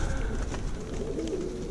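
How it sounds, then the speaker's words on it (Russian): Ural stately pigeons coo in a low, soft, repeated murmur close by, a continuous rumbling coo with faint fluttering and background noise and no talking. "Ну как не любить голубей,"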